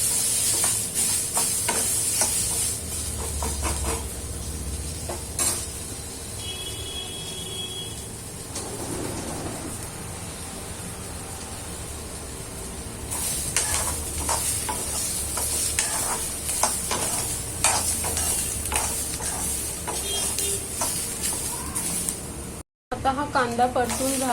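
Onions sautéing in a pan for dhaba-style egg curry, a steady close sizzle with repeated stirring scrapes and clicks of a utensil. A voice speaks at points over the frying.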